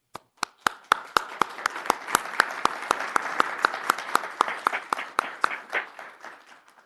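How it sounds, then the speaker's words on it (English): A small group claps at a city council meeting after a proclamation declaring National Public Works Week. Distinct, evenly spaced claps build into a steady patter for about six seconds, then thin out and stop. "It would be appropriate to applaud."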